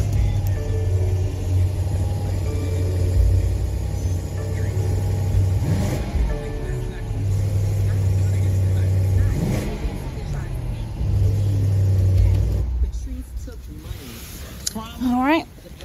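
A BMW M850 engine idling with a deep, close hum, broken by two sharp revs that rise and fall, then the engine note drops away near the end, with some voice in the background.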